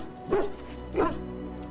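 A mabari war dog in Dragon Age Origins gives two short, close barks about half a second apart, standing clearly above a low background hum, with no speech around them.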